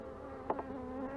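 Honey bees buzz steadily around an open brood hive filling with nectar, a low continuous drone with a couple of brief louder swells as individual bees pass close by.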